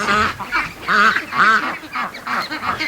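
Free-range ducks quacking close by near a lake, a run of loud nasal quacks in an uneven rhythm, several calls overlapping across a few seconds.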